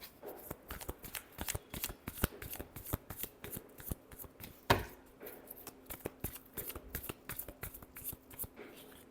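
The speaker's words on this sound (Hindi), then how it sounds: "Last shuffle." A deck of tarot cards is riffled and shuffled in a steady run of rapid papery flutters and soft slaps, close and fairly quiet, with one sharper snap near the middle and no talking.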